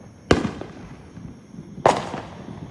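Two sharp firework bangs, each a loud close crack trailing into a short rumble, spaced about one and a half seconds apart over a quiet background.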